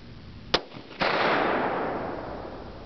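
Two sharp gunshots from a .357 Magnum hunting rifle firing reloads, the first a short crack and the second a louder blast half a second later with a long rolling echo fading away outdoors.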